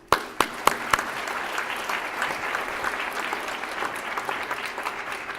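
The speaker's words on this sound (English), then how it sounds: "I want to give them a round of applause." A few loud, sharp claps open the applause, and a wider audience joins in at a college honor society induction ceremony. The clapping settles into an even, moderate ovation that holds steadily to the end.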